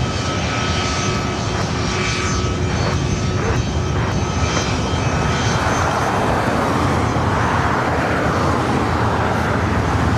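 Jet aircraft engines roar at LAX airport, a loud, continuous broadband rumble with a steady high whine that shifts and swells as the plane moves close by, with no voices over it.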